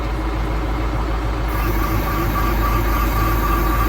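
A forestry machine's engine runs at idle with no revs, a steady low rumble with a constant hum and no change in pitch throughout.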